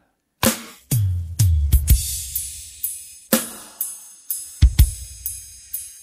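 Drums alone, split from a full mix: heavy kick and snare hits with crashing cymbals, a steady pounding pattern with roomy reverb and no other instruments.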